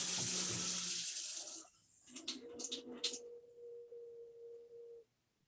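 Water gushing from a tap, loud and close for the first second and a half, then cut off, followed by a few faint clanks and a sustained soft tone.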